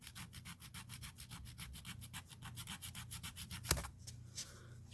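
A gel nail extension is filed into shape with a nail file, making a steady run of quick, rhythmic scratchy strokes, close and fairly soft, followed by a brief knock and a few slower rubs.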